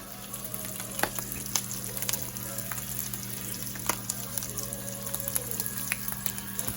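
Bacon sizzles steadily in a pan, a dense continuous crackle with occasional sharper pops and a faint hum underneath, close and alone with no talking.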